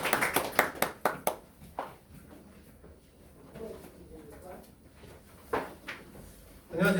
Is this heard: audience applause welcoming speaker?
yes